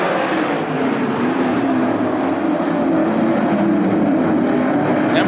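410 sprint cars racing in a heat race at Attica Raceway Park, heard as a loud, steady engine roar with a low droning hum that holds evenly throughout, no voices over it.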